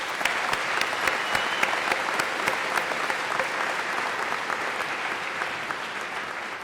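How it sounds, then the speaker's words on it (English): Sustained round of applause from a crowd at a high school graduation ceremony, dense, steady clapping that fills the space throughout, with no voices standing out. "Let's give them a round of applause."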